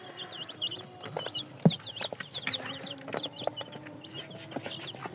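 Chickens cluck continuously while feeding, a dense overlapping chatter of short calls with one louder close peck or squawk early on, no voices present.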